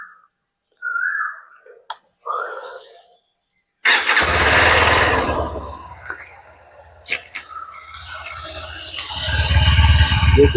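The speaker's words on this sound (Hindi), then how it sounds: "मैं आप लोगों को एक बार इसकी एग्जॉस्ट साउंड सुना देता हूँ।" A Honda CB200X motorcycle gives a few quiet clicks, then its engine fires and settles into a steady, close exhaust burble at idle, swelling slightly toward the end.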